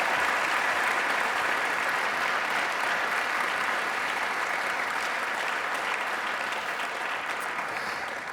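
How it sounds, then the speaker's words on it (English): A large audience applauds steadily for the Aston Martin Aramco F1 Team drivers at a 2026 season launch event, a dense, even wash of clapping that holds at full strength throughout with no voices over it. "please give our Aston Martin drivers a round of applause"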